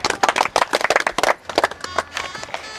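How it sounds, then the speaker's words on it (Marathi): An audience at a gathering claps to welcome a student, with dense, loud applause that thins into scattered claps toward the end. "सगळ्यांनी टाळ्या वाजून त्या विद्यार्थ्याचं स्वागत करूया."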